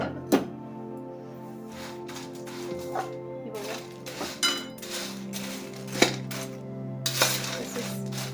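A spoon scrapes and clinks against a pan while corn poha chivda is stirred and mixed, with scattered sharp metallic knocks over a low steady hum, close by.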